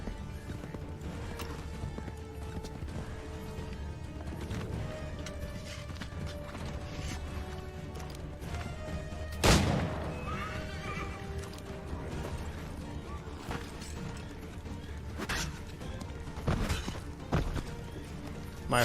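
Horse hooves clip-clop steadily in Assassin's Creed III amid creaks and mechanical clatter, with a couple of sharp knocks and faint whinny-like sounds under continuous game ambience.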